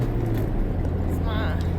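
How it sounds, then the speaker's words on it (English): A small toolbox rattles loosely on the floor of a moving car, a steady busy clatter mixed into the low rumble of the engine and road noise, with no one speaking. "It's my little toolbox on the floor has been making a racket"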